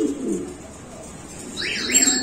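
Low, soft cooing from pigeons, including Lahori and English Fantail breeds, runs through the background, with a few faint higher chirps toward the end; no one speaks.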